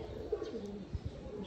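Soft, low cooing from a pure Sialkoti pigeon, a few short murmuring coos close by over a quiet background with faint chirps.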